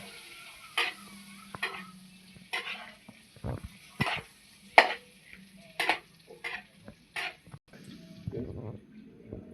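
Butter sizzles in a pan for buttered shrimp, a faint crackle broken by repeated sharp clicks and scrapes of a utensil against the pan, with a person talking.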